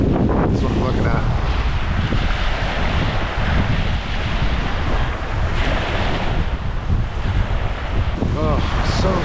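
Strong wind buffets the microphone over breaking waves on a lake bay near a beached canoe, a loud continuous roar of gusts and surf with no pauses.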